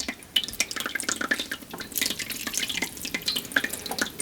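Hot water poured steadily over rawhide on an axe handle brace, a close, continuous splashing and trickling with uneven dripping throughout.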